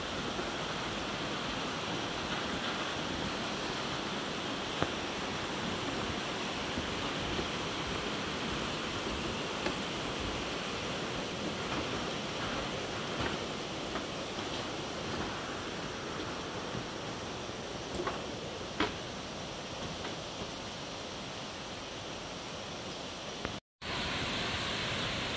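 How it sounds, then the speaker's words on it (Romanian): A waterfall on a hiking trail in northern Bali rushes in a steady, even hiss that holds unchanged for the whole stretch, fairly faint and heard at some distance, with no voices. "Ne apropiem de cascadă, se aude tot mai tare."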